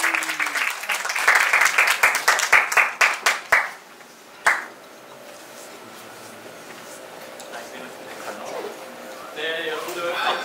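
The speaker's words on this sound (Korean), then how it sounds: "큰 박수로 맞아주시기 바랍니다." An audience at an alumni lecture claps to welcome the guest speaker, a burst of rhythmic, fairly close applause that fades out within a few seconds, followed by quiet room noise and a few later sounds.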